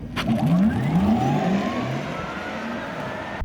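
A Porsche Taycan electric car accelerates hard, its rising motor whine sweeping upward in pitch over a few seconds, loud at first and then settling under steady road noise.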